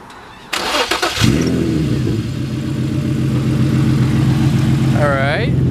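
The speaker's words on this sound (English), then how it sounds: "Let me try and start it." A starter motor cranks briefly, then the engine catches and settles into a loud, rough idle; a voice briefly speaks near the end.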